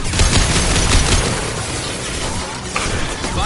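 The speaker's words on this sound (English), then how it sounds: "Firing a high-impact shot." Gunfire and impacts in the video game Mass Effect 2 during a firefight against Geth, with dense bursts of loud shots and crashes near the start and continuing chaotic combat noise throughout.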